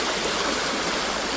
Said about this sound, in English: the water's gushing past me